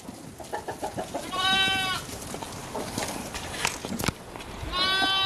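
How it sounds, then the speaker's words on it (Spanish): A flock of about 120 sheep of mixed sizes on a ranch, with several loud nearby bleats and some chicken sounds, under someone talking. "Estas son las borregas, alrededor de 120 borregas."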